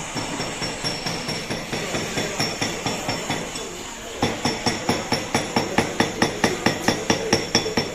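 Workers polish and set stones for rings at a jewellery workshop in Pattaya, Thailand, producing a steady, rhythmic run of sharp clinking taps that grows louder and more regular partway through, against a busy background hum.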